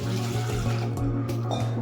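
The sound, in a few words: washing fresh green peas with clean water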